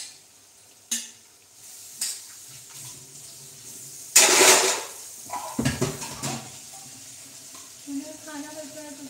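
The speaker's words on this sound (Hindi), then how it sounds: "उसके बाद इसमें मैं हरी मिर्च भी फ्राई करूँगी एक दो।" Green chillies dropped into hot oil in a pan give a sudden burst of sizzling in the middle, surrounded by clattering of utensils and stirring, with quieter sizzle and faint background sounds on either side.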